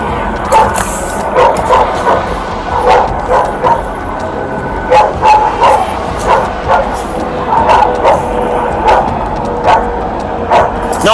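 A police dog barks repeatedly in bursts of loud, close yips and bow-wows with whimpering, during an LAPD arrest of a wanted felony suspect after a traffic stop; some voices are heard alongside.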